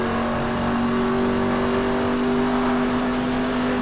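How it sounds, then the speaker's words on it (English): A car's engine from the racing video game Need for Speed Hot Pursuit Remastered on PS5, driven through a desert tunnel, gives a loud steady drone with a strong constant tone, no voices. "And literally every car sounds nice in tunnels in this game."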